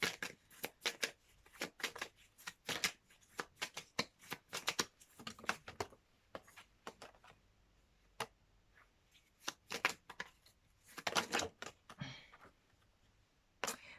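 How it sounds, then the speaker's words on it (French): Tarot cards are shuffled and drawn, with close, crisp bursts of riffling and slapping card sounds in irregular clusters separated by quiet gaps. "Je vais encore tirer quelques cartes."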